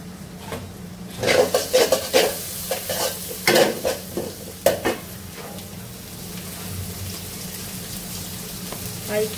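Onions and chopped vegetables for a curry frying in a pot, with a bright crackling sizzle and a run of sharp scraping stirs early on that settle into a steadier fry toward the end.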